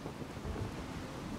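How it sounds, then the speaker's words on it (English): A thunderstorm in The Witcher 3 video game gives a steady, dense wash of rain and low rumbling thunder, continuous and moderately loud with no talking. "The storm, damn it."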